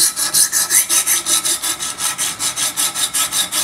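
A Sebenza knife edge being honed for a micro bevel on a Wicked Edge guided sharpener: a steady, rhythmic rasping scrape of abrasive stones on steel, repeating about five strokes per second, close and clear with no talk.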